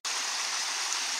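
A stream flows beside a rainy-weather bushcraft campsite with hammocks and tarps, a steady, close rushing of water that fills the whole short stretch with no voices.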